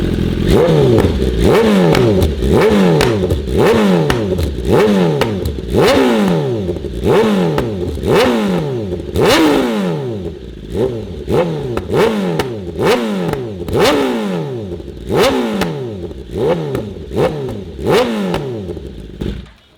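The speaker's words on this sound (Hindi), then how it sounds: "BMW S1000RR की आवाज़।" A BMW S1000RR sport motorcycle engine revs repeatedly, loud and close, with a raspy, crackling aftermarket exhaust rising and falling in quick bursts throughout.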